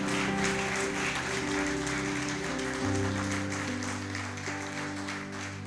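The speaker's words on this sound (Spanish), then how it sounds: "Vamos a darle un aplauso a Él" Congregation applause during a church service, a broad wash of clapping over sustained keyboard chords, fairly loud and gradually easing off.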